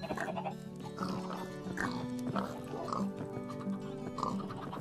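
Pigs oinking in the video game Minecraft while being fed potatoes, repeated short grunting oinks in an uneven rhythm, close and clear, with game music or tones underneath and someone talking.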